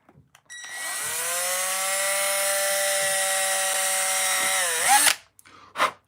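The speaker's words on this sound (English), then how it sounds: "just run your drill in reverse" A power drill running in reverse to bore a clean hole in plastic whirs loudly and steadily for several seconds, its pitch dipping as it winds down, followed by a couple of short clunks.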